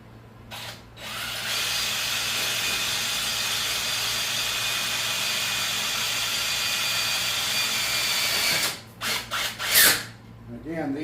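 A power drill drives self-tapping screws into a connection, whirring steadily for several seconds, then stopping in a few short stuttering bursts near the end, loud and close with no talk over it.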